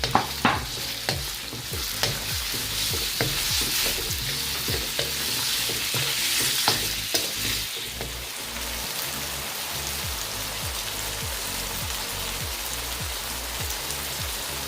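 Chicken breast sizzles and fries in a pan for Filipino pancit bihon guisado, with steady crackling spatter and repeated scraping stirs of a utensil against the pan, close and continuous without any talking.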